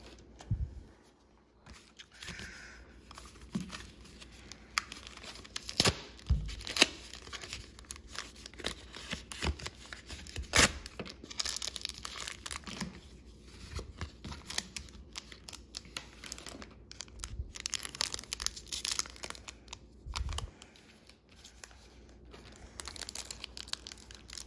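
Pokémon card hanger packs are torn open and handled, giving a long run of foil crinkling, crisp tearing and card shuffling up close. The crackles are scattered and irregular throughout, with no talking.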